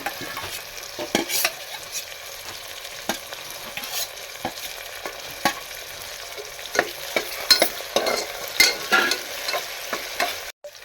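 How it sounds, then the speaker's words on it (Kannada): Onions fry in a pan for egg biryani while a spoon stirs them. Close, steady sizzling runs throughout, broken by frequent scraping strokes that grow busier toward the end. "ಚೆನ್ನಾಗಿ ಫ್ರೈ ಮಾಡ್ಕೋಬೇಕು ಅದು ಫ್ರೈ ಆದಮೇಲೆ ಟೊಮೊಟೊ ಹಾಕ್ಕೋಬೇಕು"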